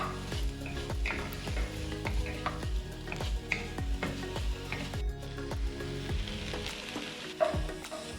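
Onion and garlic frying in beef fat for borscht, a close sizzle broken by a regular rhythm of spoon strokes scraping and knocking against the pan, with no one speaking.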